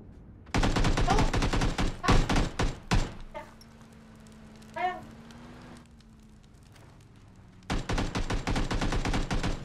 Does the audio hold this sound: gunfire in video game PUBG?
yes